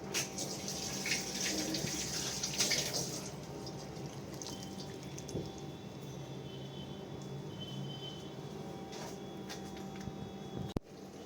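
Boiled vegetable chow mein noodles being drained of their cooking water, a steady, close splashing pour like a running tap that continues throughout with a few brief clinks and no voices.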